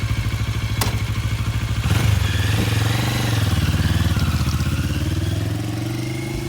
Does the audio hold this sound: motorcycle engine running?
yes